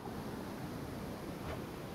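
Gusting wind on the surface in the Hades video game, a steady, full rush of airy noise, broad and unbroken for a couple of seconds with no voices.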